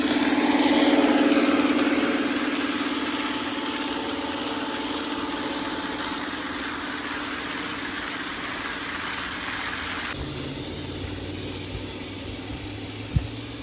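A Lionel model train locomotive on a large FasTrack garden railway climbs a gradient outdoors with a steady motor hum and whine that shifts in pitch partway through, ending with a single sharp click.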